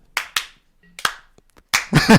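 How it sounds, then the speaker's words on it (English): A few slow, isolated hand claps, spaced unevenly and fairly close, followed by a brief burst of noise at the end. "Slow clap to you, sir."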